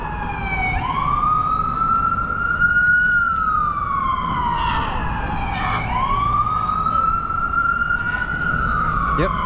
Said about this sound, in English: Yep, ambulance.